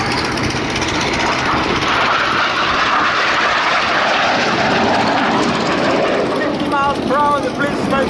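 Red Arrows display jets roaring overhead at an air show, a loud continuous broadband engine rush that swells and holds, heard under a commentator's running narration.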